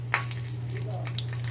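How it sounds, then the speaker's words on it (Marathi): Half a spoon of cumin seeds crackling in hot oil for tempering, a soft steady sizzle with scattered small pops over a low mains hum. "जिरे छान असे तडतडू द्यायचे आहेत"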